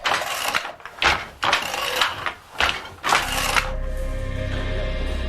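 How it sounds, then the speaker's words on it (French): Weaving looms in a workshop clatter away in loud, rhythmic bursts of mechanical rattling. A steadier drone follows toward the end. "Les métiers à tisser travaillent jour et nuit."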